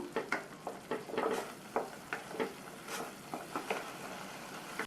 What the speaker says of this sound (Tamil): 4 டீஸ்பூன் கொத்தமல்லி தூள் சேர்த்துட்டு இதை மறுபடியும் ஒரு 2 நிமிஷத்துக்கு வதக்கி விட்டுக்கணும்